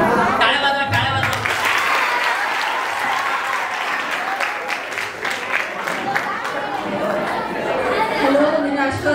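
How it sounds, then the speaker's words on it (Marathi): An audience at a hypnotism stage show claps steadily throughout, with crowd chatter and a voice mixed in beneath the dense applause. "टाळ्या वाजवा, टाळ्या वाजवा."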